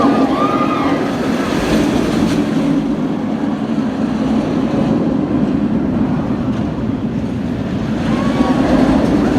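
Steady, loud rumble of the Khumba roller coaster train running along its track at Busch Gardens Tampa, a continuous wash of rolling noise and wind with faint clatter throughout.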